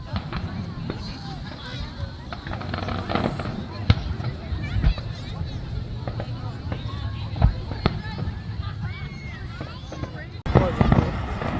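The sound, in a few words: July 4th fireworks going off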